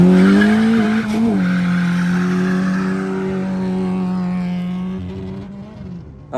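An RS Turbo car launches hard from a standstill, its engine holding a loud, steady high-pitched drone with squealing wheel spin for several seconds before easing off near the end.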